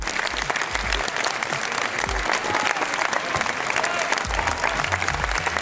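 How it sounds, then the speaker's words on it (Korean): A crowd at the Cannes film festival applauds, dense continuous clapping that stays loud and even throughout, with cheering mixed into the steady wash of hands. "매즈가 조니를 향해 박수를 보내고 악수를 나누는 장면에 조니의 팬, 매즈의 팬 모두가 환호했습니다"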